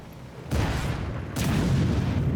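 Two heavy booms land about a second apart, each a deep thudding tank cannon shot in a World of Tanks battle, with a rumbling tail filling the gap.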